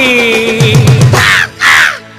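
Loud crow caws in a song, two strong harsh calls ringing out over sustained musical tones with a low rhythmic pulse underneath.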